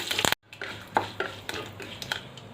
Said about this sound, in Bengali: একটু কারি পাতা ফোড়ন দেব ভালো করে নেড়ে নিই